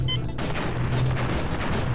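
A bazooka blast in the Crash Bandicoot 3 video game comes through as a dense, sustained booming rumble, loud and steady for about two seconds, with no talking over it.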